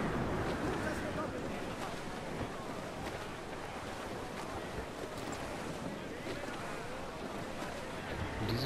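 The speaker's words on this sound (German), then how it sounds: "Das ist ganz schön Gegenwind jetzt gerade" Strong headwind and open sea while sailing a ship in the video game Assassin's Creed Black Flag, with a gust rising: a dense, steady roar of wind and surging water that fills the whole stretch at an even loudness.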